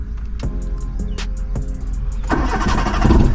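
A car engine cranked by its self-starter during a driving lesson, with a repeated whirring crank that builds into a louder, rougher running roar near the end, close and loud, with no talk.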